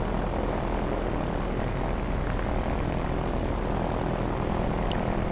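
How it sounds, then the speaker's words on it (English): Steady, loud propeller engine drone of a P-51D Mustang in the DCS flight simulator, throttled up to about 2300 RPM, holding a constant unbroken roar throughout with no talk. "Advanced throttle to obtain 2300 RPM."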